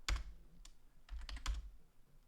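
Terminal command typed on a computer keyboard, a short burst of clicky keystrokes in a few quick clusters, close and clear, with no voice.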